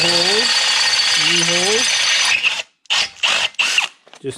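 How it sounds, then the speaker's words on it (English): A drill bores half-inch holes in a Dodge Dakota frame during a 1952 Studebaker 2R5 truck frame swap, a loud whining grind with pitch swoops that then breaks into short bursts separated by pauses. "That's just drilling out the 1/2 inch."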